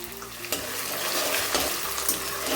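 Green chili paste frying with potatoes in a pan for sabudana khichdi, a steady close sizzle with soft stirring scrapes throughout and no talking.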